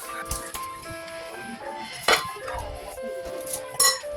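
Flour being mixed into a butter and fresh grated ginger mixture in a bowl, soft scraping with clear clinks of a utensil against the bowl, two sharper knocks standing out, faint and close.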